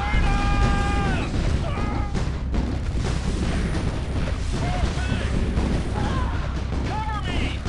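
Enemy gunfire and booming artillery in the Art of War 3 strategy game rumble continuously amid battle noise, with overlapping game voices and alert tones throughout.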